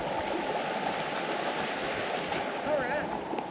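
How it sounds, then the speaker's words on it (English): A rain-fed forest creek flows steadily after heavy downpours, giving a continuous broadband rush of running water close by, with faint wind noise and no clear talk over it. "this creek wouldn't have been running this well"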